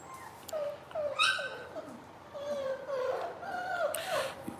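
Puppy whimpering and yipping in short high-pitched cries, several whines rising and falling over a few seconds, close and fairly loud with no talk over it.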